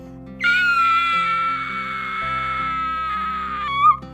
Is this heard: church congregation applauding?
no